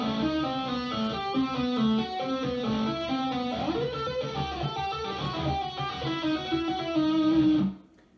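A guitar tapping exercise plays fast, continuous sextuplet runs of bright, rapidly shifting notes with an effects-laden tone, filling the clip before cutting off abruptly near the end.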